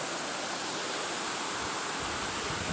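A waterfall roars close by: a loud, dense, constant rush of falling water that fills the whole stretch, with no voices.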